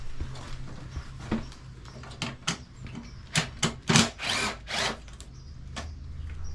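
A power drill is used on a backyard shed build, a series of short whirring bursts of uneven length, close and fairly loud, with faint background noise between them.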